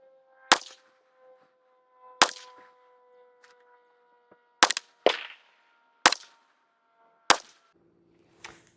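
A POF Revolution rifle fires a string of sharp, loud gunshots spaced a second or two apart, each with a short ringing tail, heard up close at an outdoor range with no talking between shots.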